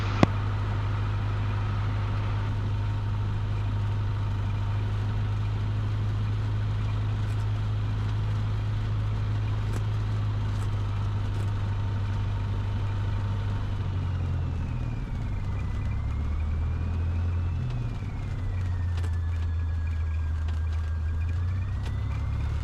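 A light training aircraft's piston engine runs steadily while taxiing on an airfield, a continuous low drone that holds level, then its pitch shifts and wavers in the second half, with no voices over it.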